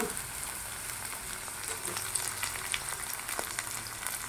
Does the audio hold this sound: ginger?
yes